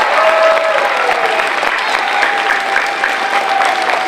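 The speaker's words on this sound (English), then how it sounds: "Let's give them a round of applause," A school assembly audience applauds veterans at a Veterans Day ceremony with loud, sustained clapping from many hands filling the hall evenly, with a faint tonal hum running beneath it.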